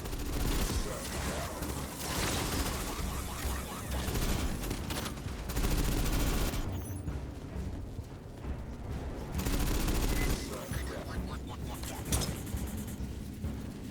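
Rapid bursts of gunfire from the video game Aliens: Fireteam Elite 2 fill the scene almost without pause, loud and dense with booming impacts, while voices shout over the combat.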